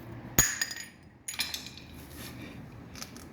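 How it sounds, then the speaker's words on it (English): Cap popped off a trophy truck wheel hub, a sharp metallic clink followed by a few lighter clicks and taps close by. "Next, you pop this cap off."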